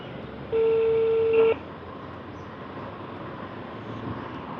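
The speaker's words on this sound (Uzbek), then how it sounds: "The line is busy now. Please try again later." A telephone busy tone sounds as one steady, loud electronic beep lasting about a second. It stands out over a low background hiss, followed by quieter room noise.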